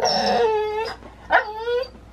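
Dog whimpering and howling indoors, two drawn-out whining howls with a short pause between, close and fairly loud with no talking.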